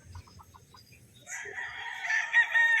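A gamefowl rooster crows loudly and close at a gamefarm selling stags and three-way crosses, a long strained cock-a-doodle following a few soft clucks.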